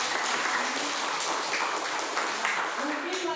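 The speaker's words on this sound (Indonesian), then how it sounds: "tepuk tangan dulu" Students in a classroom lesson give a round of applause, a sustained, even clatter of many hands at moderate volume with faint voices mixed in.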